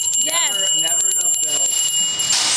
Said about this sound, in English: Never enough bells.